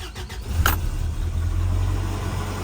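A Toyota 22RE truck engine runs steadily just after starting, a close, even low rumble with a brief sharper click near the start and no talk.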